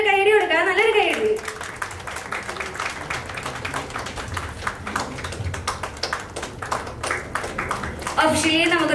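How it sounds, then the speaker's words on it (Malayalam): An audience claps through most of a movie audio launch ceremony. The applause is moderate and steady, with a speaker talking over it at the start and end. "നല്ലൊരു കൈയടി കൊടുക്കുക"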